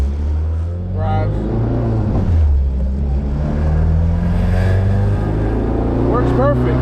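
A Honda Civic EG with a manual-transmission conversion accelerates and power shifts, its engine droning and climbing in pitch up close while someone talks over it.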